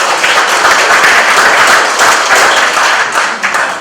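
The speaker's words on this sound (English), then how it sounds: "let's give him a round of applause" An audience at an old-fashioned Fourth of July event gives a loud, dense round of applause, steady close clapping from many hands throughout.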